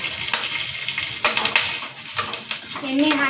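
Tomatoes frying in oil in a pan give a steady sizzle, with a few sharp clinks and scrapes from stirring and the utensil against the pan.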